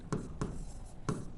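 Three short chalk strokes scrape across a classroom board during a maths lesson, each a brief scratchy burst spaced unevenly, close and fairly loud with no talking.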